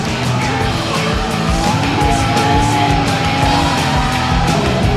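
A Hyundai Ioniq 6 N electric car drifts with continuous loud tire squeal and a revving engine tone, steady and close throughout.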